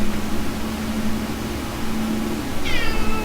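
A pet cat lets out a single short meow near the end, clear but not loud, above a constant low hum and faint room noise.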